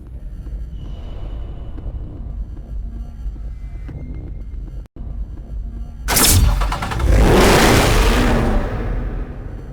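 A Ford Mustang police car in Need for Speed Hot Pursuit idles with a low throbbing hum, then its engine roars loudly into a sustained, surging rev for the final few seconds.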